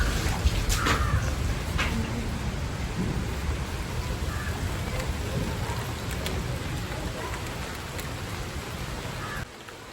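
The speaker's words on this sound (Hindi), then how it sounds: "झमाझम बारिश हो रही है दोस्तों, शाम से हो रही है हल्की-फुल्की।" Heavy rain pours steadily in a village on a winter morning as a dense, constant hiss, with low rumbles of thunder underneath, before it drops off abruptly near the end.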